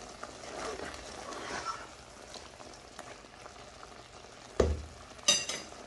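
Lamb karahi stirred in a pan over a soft, low simmering sizzle, with two sharp knocks of a utensil against the pan near the end.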